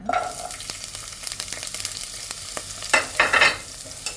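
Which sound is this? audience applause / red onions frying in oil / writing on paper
red onions frying in oil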